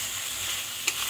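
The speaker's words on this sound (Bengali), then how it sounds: "এই মশলাটাকে ভালো করে কষাতে হবে অনেকক্ষণ ধরে" Egg curry masala sizzles as it is sautéed and stirred in oil, a steady close hiss with one sharp scrape of the spoon near the end.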